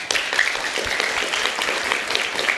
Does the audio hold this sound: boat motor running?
no